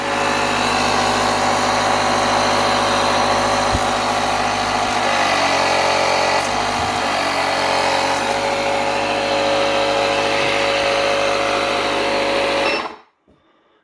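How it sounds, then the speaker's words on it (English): The air compressor of a CAT portable power inverter and 1000 A jump starter runs with a loud, steady buzzing drone, its pitch dipping slightly midway before it shuts off abruptly near the end. "Yeah, the compressor's kind of loud, but it works."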